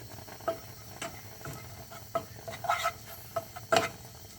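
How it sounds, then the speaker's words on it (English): Garlic and bacon fry over medium heat in a pan for pineapple fried rice, with a low steady sizzle broken by scattered clinks and scrapes of stirring. "Fry the garlic with the bacon until it's slightly crispy or slightly"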